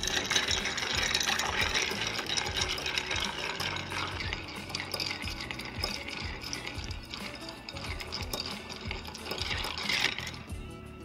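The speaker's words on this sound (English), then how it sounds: "And stir for 20-25 seconds or until it's adequately diluted." Ice is stirred in a cocktail mixing glass for a Cynar drink, a continuous close rattling and clinking of cubes against glass kept up steadily for about eleven seconds without speech.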